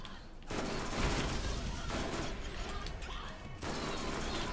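An SMG fires in sustained dense bursts in the Borderlands shooter, with mechanical clatter and impacts; loud, continuous bursts broken by short gaps.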